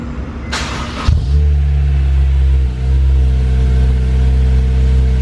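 A car engine turns over and settles into a steady, loud, deep exhaust rumble at fast idle, close by, with no talking.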